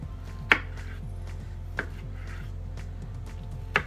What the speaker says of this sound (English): we're gonna cut some tomatoes